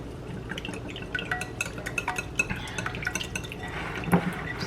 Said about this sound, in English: let's go ahead and whisk this together